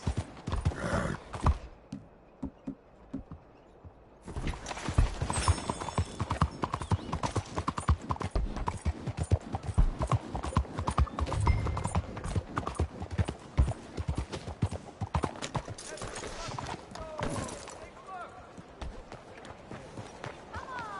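A horse's hooves clip-clop in Red Dead Redemption 2, starting with a few scattered steps and then settling into a steady, fairly loud trotting rhythm. A neigh is heard along the way.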